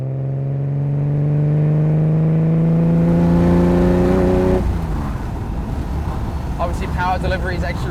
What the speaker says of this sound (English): It's a V12, so it sounds very good. No turbos.